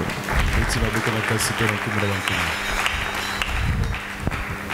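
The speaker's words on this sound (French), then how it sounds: "Acclamons très fort pour le Père." A church congregation claps and cheers for the pastor during a Sunday sermon, a dense steady wash of applause mixed with voices and tonal music underneath.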